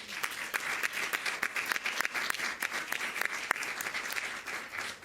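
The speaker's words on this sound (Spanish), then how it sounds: "Un aplauso grande." Audience applause at an International Literacy Day event, steady crisp clapping from a mid-sized crowd lasting about five seconds, with distinct individual claps standing out.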